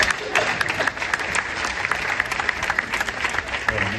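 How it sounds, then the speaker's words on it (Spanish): Audience applause in a studio setting, a dense steady wash of many hands clapping close by for the full four seconds, with a faint voice occasionally rising beneath it. "voy a aplaudir un poco"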